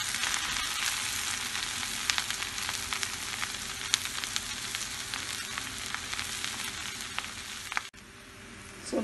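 Cabbage roll filling cooks in a pan with a continuous sizzle and scattered sharp crackles, fairly quiet and close, easing off briefly near the end.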